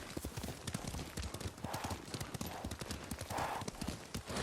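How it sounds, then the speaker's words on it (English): Horse hooves clip-clop in a steady rhythm during riding in the video game Ghost of Tsushima, with a faint whinny at one point, close and moderately loud. "Lord Sakai taught me to ride a horse."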